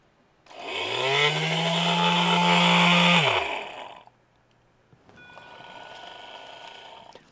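A small DC motor on a breadboard, driven by a TIP120/TIP125 H-bridge, whines loudly for about three seconds, its pitch falling as it stops, then runs again more quietly at a lower speed.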